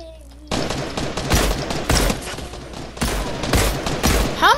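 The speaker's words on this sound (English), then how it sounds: "I shot like 3 bullets at him, bro." Gunfire in a squads shooter video game: loud rapid bursts of shots in several volleys with sharp cracks, faint voices at moments between them.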